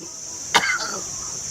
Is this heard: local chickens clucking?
no